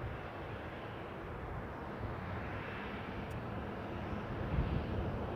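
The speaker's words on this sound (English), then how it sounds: "I see the ATR of Aer Lingus pushing back" An Aer Lingus ATR turboprop pushes back at Leeds Bradford Airport, heard as a faint, steady engine drone with a broad wash of distant noise and light wind, with no voices.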